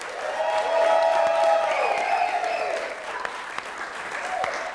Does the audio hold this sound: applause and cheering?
yes